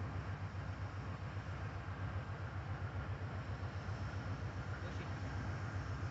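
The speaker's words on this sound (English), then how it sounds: "Because the train stopped right there." A train slows to a stop on the tracks, heard from people walking nearby, as a steady loud rumble with a rhythmic low thumping of the wagons through the whole stretch and no talk over it.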